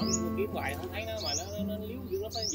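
A young bird gives a few thin, high chirps and tweets near a backyard fruit garden with an aviary, faint and intermittent beneath people chatting nearby.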